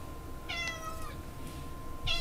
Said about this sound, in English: I got a maniac cat coming in here